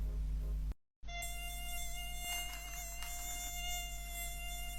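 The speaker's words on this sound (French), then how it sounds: "Il y a un moustique qui vole là." A mosquito buzzes in flight with a thin, steady high whine. It cuts out very briefly near the start, then continues close and unbroken.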